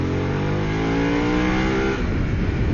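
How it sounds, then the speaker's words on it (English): Harley-Davidson Pan America adventure motorcycle with variable valve timing revving hard under throttle, its engine note climbing steadily and loudly for about two seconds before dropping off into a rougher idle rumble, close up. "the more aggressive you wail on the throttle, the more power she's going to give you. and it sounds fantastic on song"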